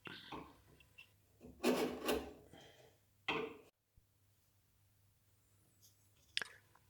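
A saw cutting a thin kumiko wood strip on a 67.5-degree jig: short, close rasping strokes in a few bursts, then near silence with a faint tap.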